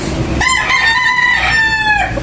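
A Sweater Boston Black gamefowl bull stag crows loudly and up close, one long drawn-out cock-a-doodle-doo that fills the whole moment with no talking, heard at a gamefowl expo.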